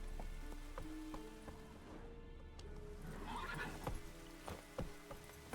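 Roach, the horse in The Witcher 3 game, gives a clear whinny amid clip-clopping hooves and light rain, fairly quiet, with a brief spoken line nearby.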